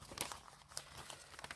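Wrapping paper being crumpled by hand on a craft table during gel plate printing, a few brief crinkling rustles close by, quiet and alone.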